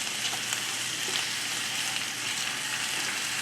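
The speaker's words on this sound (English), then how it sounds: "toss them up in that beautiful sliced onion and olive oil that we have" Zucchini sizzles and fries in olive oil with sliced onion, a dense, steady crackling hiss that stays even and close throughout.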